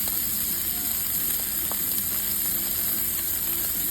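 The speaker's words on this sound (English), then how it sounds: "So this is on a cast iron camshaft. We're to just sear it on this side." Wagyu steak sears on a cast iron pan, giving a steady, close sizzling crackle with faint ticking pops throughout, no talking.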